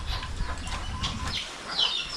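Soft hen clucking in a noisy outdoor setting, a few low clucks amid background rustle and faint bird chirps, fairly quiet and distant.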